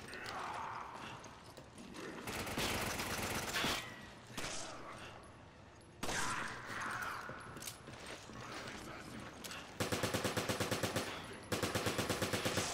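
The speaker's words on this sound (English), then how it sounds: "People fucking shooting me from every angle now." Rapid bursts of automatic gunfire from enemies in Resident Evil 5 on Xbox One, loud and sustained, with heavy volleys and a fast mechanical rattle toward the end.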